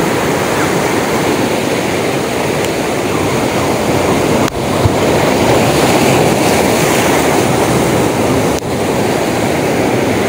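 Ocean waves during a fishing trip roll in a loud, continuous wash of surf, with a couple of sharp dips as swells break close by.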